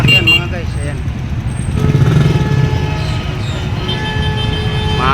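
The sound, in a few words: traffic with car horns honking near Pasig market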